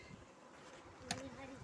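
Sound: bees buzzing during beehive inspection

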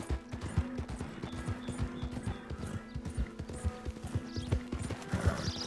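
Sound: horse hooves in Red Dead Redemption 2 video game

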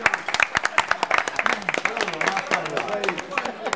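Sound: applause for Pasquale's birthday

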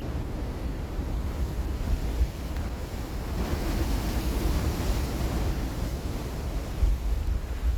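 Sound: strong sea waves and rushing rainwater at a river mouth

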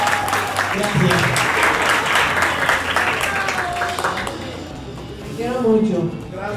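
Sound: audience applause for a speaker

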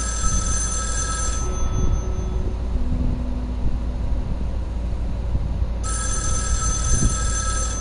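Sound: telephone ringing in the video game Erica

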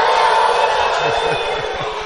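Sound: crowd shouting woo

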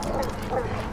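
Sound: dog barking in video game Die Young

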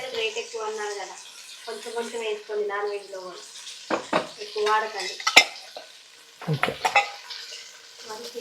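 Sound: frying ginger garlic paste in pan

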